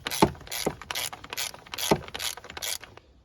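A hand ratchet works a 10mm bolt loose on a 2009 Cadillac CTS during a power steering pump swap: a string of about eight quick clicking strokes, close up and fairly quiet, with no talking.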